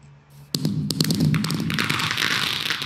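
Fireworks fired in a backyard show launch with a sudden loud burst, followed by a dense crackling, popping spray that keeps going near and loud throughout.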